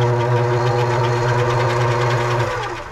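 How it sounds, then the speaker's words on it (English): A Vevor mini lathe running in reverse with the speed turned up, a loud steady motor whine and hum with a mechanical buzz, fading slightly at the end. "put the lathe in reverse"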